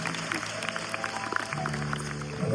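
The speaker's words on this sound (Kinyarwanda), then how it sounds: "amashyi" An audience applauds at a church wedding, a busy patter of claps at moderate distance that continues throughout, while voices and some music sound underneath.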